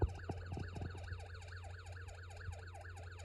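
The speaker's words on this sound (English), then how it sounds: "When I turn on the slide switch, you hear a police siren" An electronic police siren from a Snap Circuits toy alarm circuit wails up and down in a steady repeating sweep, with a few relay clicks at the start.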